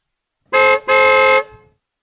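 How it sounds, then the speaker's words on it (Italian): Two loud car horn honks close by, a short blast followed by a longer one, with nothing else around them. "Ci penserà lui a suonare clacson a tre ponti."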